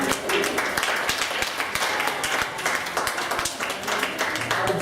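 Children and adults at a kids' camp event applaud their teachers, a dense, steady burst of clapping filling the whole stretch, with occasional voices mixed into the crowd noise.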